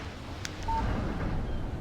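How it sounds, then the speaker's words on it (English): A phone text-message alert in the video game Alan Wake gives a single short electronic beep, clear and brief, over a quiet, windy ambient background with no speech. "Text message from Barry."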